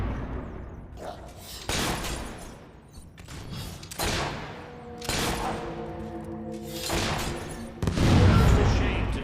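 Repeated gunfire bursts in the video game Fable III crack out in several loud volleys, one after another over a steady rumbling background, with a heavy thump near the end and no voices.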